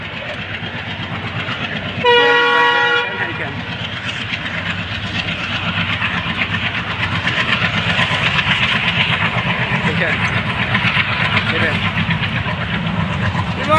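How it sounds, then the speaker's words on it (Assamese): A train running from Goalpara to Guwahati sounds a loud horn blast, then rolls past with a sustained rumble and steady clatter of wagons on the rails. "ট্ৰেইন আহি আছে চাবা"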